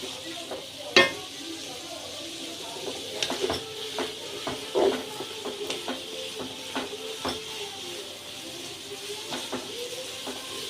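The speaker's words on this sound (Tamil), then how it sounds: "இதெல்லாம் இப்போது வதக்கிக்கலாம்." Onions sautéing in ghee with cardamom, cloves and cinnamon for a Tamil-style biryani, a steady soft sizzle broken by frequent clacks of a spoon stirring against the pot, with no talking.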